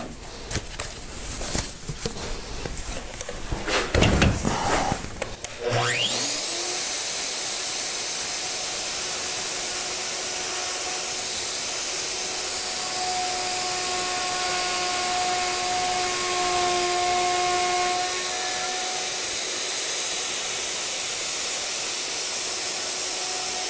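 A Hitachi M12VE electric router starts up after some handling noise, then holds a loud, steady high-pitched whine with faint tonal shifts, running alone without speech.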